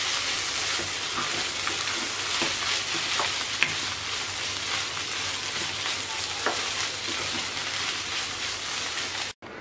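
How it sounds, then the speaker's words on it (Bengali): A shrimp curry with watermelon rind sizzles steadily in a pan while being stirred, a dense close frying hiss with occasional scraping clicks, no voices, ending abruptly. "এবার এর মধ্যে ধনে পাতা কুচি দিয়ে নেড়ে চেড়ে নামিয়ে নেব"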